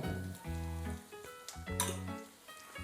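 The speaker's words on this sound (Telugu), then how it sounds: "అల్లం వెల్లుల్లి పేస్ట్ వేసుకుందాం." Ginger garlic paste frying in a pan with chilies and curry leaves for a Konaseema-style chicken curry, giving a soft, steady sizzle beneath a low tonal hum, with no talk.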